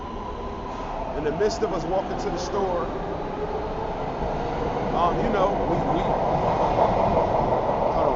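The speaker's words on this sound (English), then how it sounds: "hold on, let me let the train go by" A train rolls past with a continuous rumble and rail clatter that swells toward the end, heard under a person talking outdoors.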